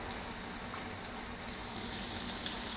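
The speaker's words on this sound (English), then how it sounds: "nice sizzle." Chicken thighs sizzle in a pan, cooked for spicy game-day nachos: a steady, dense hiss and crackle that holds level and close throughout, with no talking.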